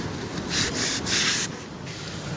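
Scrubbing grime off a Buick LeSabre front brake assembly, heard as three rhythmic rasping strokes in short bursts with steady background noise between them, no talking.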